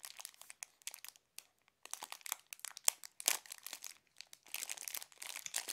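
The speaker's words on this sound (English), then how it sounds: "Let's cut it open instead." Crinkling and snipping of a packet of chocolate ginger sticks being cut open, close and fairly quiet, with irregular short rustles and crackles of the wrapper throughout.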